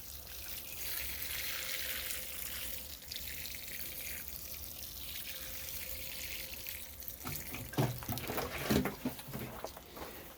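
Water poured from a can or hose onto pea seeds sown in seed trays, a steady broadband rush of running water lasting several seconds, then breaking into uneven splashes and trickles near the end.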